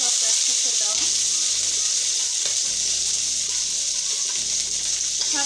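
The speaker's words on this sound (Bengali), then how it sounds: "সব কিছু ভেজে নিব।" Bay leaf, onion, green chilli, garlic, cinnamon, cardamom and cloves fry together in hot oil, making a loud, continuous close sizzle with a low droning hum underneath.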